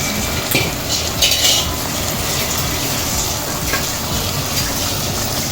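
A spoon scrapes and clinks against a pan, stirring minced mutton kothukari through an onion and tomato masala, with a steady sizzle underneath and no one talking.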